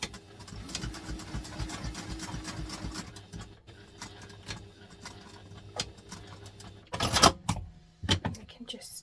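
A sewing machine runs in short bursts re-stitching a seam on a Wayfarer II backpack, with a steady mechanical whir and stitching rhythm that pauses, then a louder handling clatter near the end.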